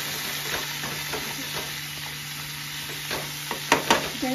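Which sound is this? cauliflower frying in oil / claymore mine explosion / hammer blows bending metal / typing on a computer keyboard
cauliflower frying in oil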